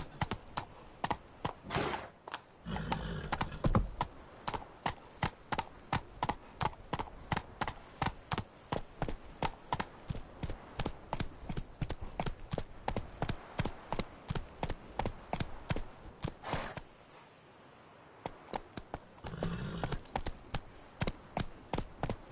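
Roach the horse galloping in The Witcher 3, hooves clip-clopping in a fast, steady rhythm that breaks off briefly twice before resuming, close and clear.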